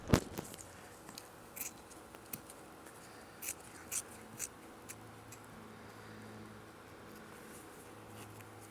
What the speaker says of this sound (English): Trim that excess off.